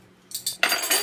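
Two spoons clink together in a few quick, bright metallic taps while crayon lipstick is made with coconut oil and Vaseline, close and clear with no talking.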